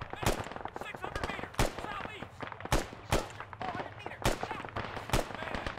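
Gunfire in the Arma 3 video game, sharp single rifle shots cracking at irregular intervals, about eight in a few seconds, loud and close, with someone talking quietly between them.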